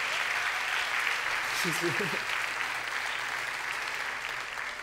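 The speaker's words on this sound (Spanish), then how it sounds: "dale un aplauso, hombre, dale un aplauso." Audience applause at a wine gala presentation, a steady, evenly sustained wash of clapping from a crowd indoors, with a brief voice speaking over it midway.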